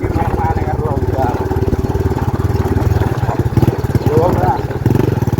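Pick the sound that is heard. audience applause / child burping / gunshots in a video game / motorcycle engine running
motorcycle engine running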